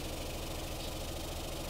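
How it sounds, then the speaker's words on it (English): Submarine engines in a submarine survival video game hum steadily with a low, droning mechanical throb that holds an even level throughout. "I still need to stop the engines."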